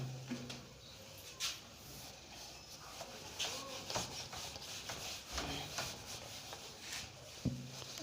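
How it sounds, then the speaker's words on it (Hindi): Quiet, steady rubbing and scraping of hands or material during a classroom chemistry demonstration, with a few soft knocks scattered through. "इसे मैं रब कर रहा हूँ।"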